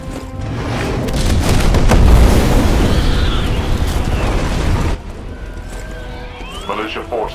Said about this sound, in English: Facility's reactor core. It's about to go.